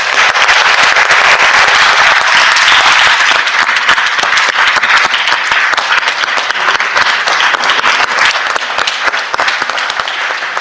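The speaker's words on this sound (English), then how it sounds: "if you would rise and join with me in giving all of our awards recipients a round of applause" Senators on the Mississippi Senate floor give a standing round of applause for award recipients, a loud, dense, steady wash of clapping from many hands lasting throughout without pause.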